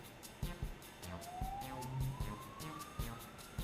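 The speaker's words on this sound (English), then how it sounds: "I'm hearing sirens." Sirens rise and wail in the background of a Final Fantasy XIV: Shadowbringers game scene, a sweeping tone climbing slowly over rhythmic thumping game music, moderately loud and without talk.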